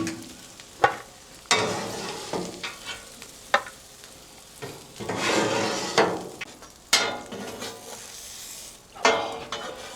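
Chicken fajita meat sizzles on a flat griddle while a metal spatula scrapes and taps the surface in repeated sharp strokes, close and fairly loud, with no talking.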